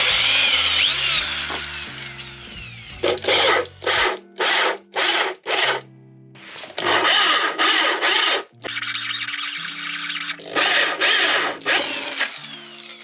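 A power drill cuts into a wooden router table top in a workshop, in several loud whirring bursts of a second or so each separated by short pauses, up close and heard alone.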